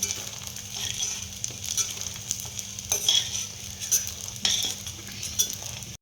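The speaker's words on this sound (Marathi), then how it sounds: "एकसारखं हलवत आपल्याला डिंक तळून घ्यायचं आहे" Edible gum (dink) fries in a kadhai for winter laddus, a steady close sizzle with scraping stirring strokes and occasional metallic clinks of the spoon against the pan, no voices.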